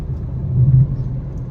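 Low, steady road rumble inside a moving car on a long journey, a brief continuous drone that swells slightly midway with no talking.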